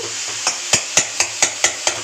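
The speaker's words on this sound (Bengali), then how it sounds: "এখানে হচ্ছে লাল শাক ভাজা" Red amaranth leaves being fried with lentil dumplings, dried chilli, garlic and black cumin in a pan, with a spatula striking the pan in a steady rhythm of about four scrapes per second over a soft sizzle.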